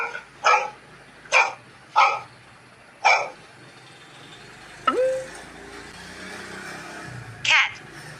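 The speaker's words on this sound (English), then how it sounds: "Dog." Dog barking: five sharp barks spaced about a second apart, a brief whine-like yelp, then one more bark, fairly close over a low background hiss.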